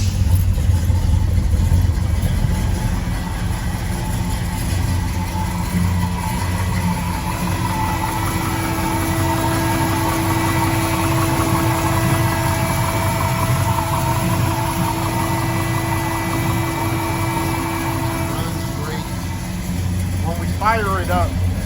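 A 1970 Chevelle with a 454 big block engine idles in a steady, loud low rumble that holds for the whole stretch, with a voice talking over it and a brief chirp near the end.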